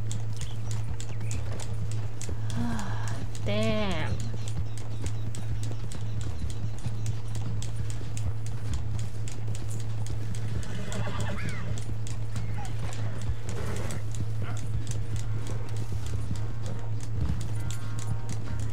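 Rapid galloping horse hoofbeats during a race in Red Dead Redemption 2 run throughout over a low constant drone, with a couple of sharp whinnies; a man briefly sighs and mutters.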